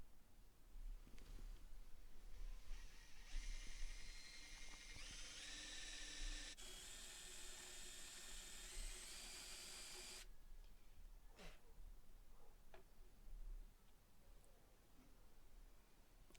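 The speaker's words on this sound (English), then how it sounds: "I'm going to drill this out to allow space for the head of the screw" Drill boring out a keyhole recess in scrap wood, a whining motor run lasting several seconds that shifts pitch partway through, followed by brief clicks and handling noises, fairly quiet.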